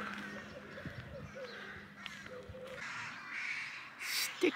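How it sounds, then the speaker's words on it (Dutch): Crows caw from treetops full of nests, their harsh calls repeating at a moderate distance over steady outdoor background noise. "Stikt hier van de vogels."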